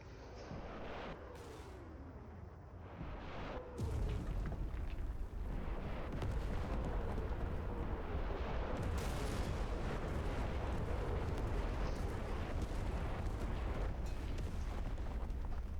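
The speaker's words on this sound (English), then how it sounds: "Let's call in a rocket artillery and see how effective it is at dealing with this threat." Rocket artillery barrage hitting in the Enlisted video game: a dense, rumbling run of explosions that starts after a brief quieter lead-in and rolls on continuously, loud and broadband, with overlapping booms and crackling debris.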